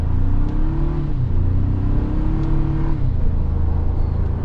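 2026 Toyota 4Runner SR5 engine revving in sport mode with manual shift select, a steady drone rising and dropping in pitch through shifts, heard from inside the cabin without talk.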